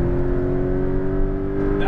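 Steady engine drone from a Porsche GT2 RS or Lamborghini Aventador SVJ driving out of a corner at the Las Vegas track, one strong sustained tone that stays loud and even throughout, heard from inside the car without talk.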